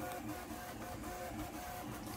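A Prusa MK4 3D printer printing ABS gives off a quiet, continuous whir of stepper motors, with faint repeating tonal movements. The sound is low in level, with no voices.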